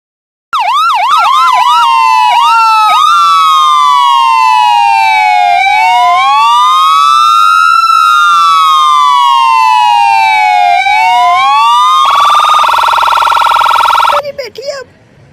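An ambulance siren wails loud and close, sweeping steadily up and down in long rising and falling tones for over ten seconds, then cuts off abruptly amid a short burst of noise.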